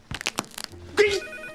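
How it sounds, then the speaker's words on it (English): A home landline telephone in a movie scene rings with a bright electronic trill, loud and close after a few brief knocks and rustles. "Oh, I miss home phones though"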